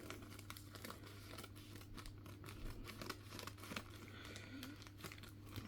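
A plastic bag crinkles steadily as aquarium plants for a Fluval Flex tank are pulled out of it, a quiet, close rustle with scattered sharper crackles and no talking.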